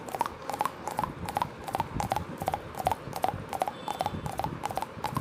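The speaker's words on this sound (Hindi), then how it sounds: "तो देखिए 6-7 घोड़ों की आवाज़ क्या" Sound effect of a group of horses, six or seven riders, galloping in a chase: steady rapid clip-clop hoofbeats in repeating clusters that run throughout, fairly loud and close, with no voices.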